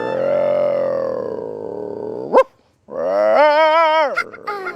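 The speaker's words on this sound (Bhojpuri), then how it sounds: "अब भौंके के मत हाँ कैसन भौंकत हटे रे" A dog gives two long, drawn-out whining howls, loud and close, with a short yelp and a brief silence between them and a few short yips at the end.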